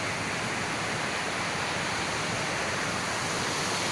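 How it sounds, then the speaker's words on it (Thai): Wanree Waterfall in Prachinburi, Thailand, a weir-like cascade fed by water from Khao Yai, gives off a steady, moderately loud broadband rush of falling water with no voices. "แต่ว่ามันก็เกิดเป็นน้ำตกขึ้นมาเออมันก็สวยดีไง"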